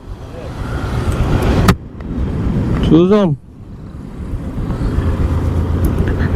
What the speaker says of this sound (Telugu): సో మళ్ళా ట్రాఫిక్ గైస్